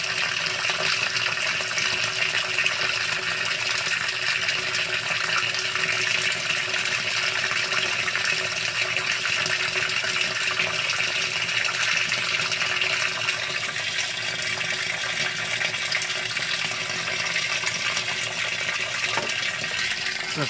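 A 2017 Whirlpool Cabrio washing machine fills with water as a loud, steady, unbroken rushing stream that stays constant throughout and has no talking over it.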